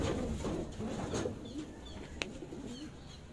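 Soft, low pigeon cooing repeats in short rolling phrases against steady outdoor background noise, with a brief sharp click partway through.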